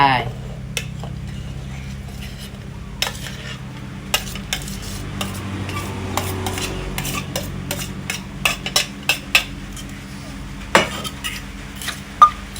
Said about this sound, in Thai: เดี๋ยวน้องต้องตำ ให้แตงนิ่มๆนะคะ